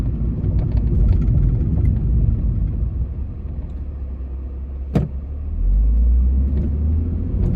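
Truck passing through a residential neighborhood in Allen, Texas, a loud low rumble of engine and tires that swells and fades, with a brief sharp clank midway and renewed heavy rumbling toward the end.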